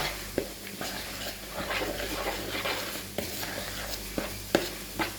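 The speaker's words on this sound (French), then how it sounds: "On va mélanger tout ça. Et puis on va attendre que nos oignons cuisent." Onions for arancini being stirred in a sizzling pan, a soft steady frying hiss broken by several sharp scrapes and knocks of the spoon, close up with no voices.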